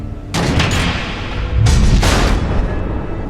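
Missiles exploding in Batman: The Telltale Series: two heavy booming blasts about a second apart, loud and close, each with a rumbling low tail that lingers.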